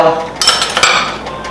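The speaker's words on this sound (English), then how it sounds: "I'm going to go ahead and put my pan in between medium and high" A metal pan clanks down onto a stovetop burner, two quick close metallic knocks with a light rattle.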